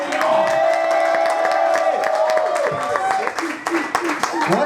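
A comedy club audience cheers, whoops and applauds loudly as comedian John Gibson is introduced, a dense, steady roar of clapping and shouts that carries on for several seconds.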